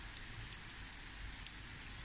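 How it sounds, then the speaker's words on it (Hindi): Steady rain pours down in a city after a long dry spell, a dense even hiss of drops on surfaces with a few louder spatters, heard quietly and continuously with no talking. "आज शाम जो हुई है बारिश, यानी कि बारिश बहुत अरसे बाद बारिश हुई है खुल के"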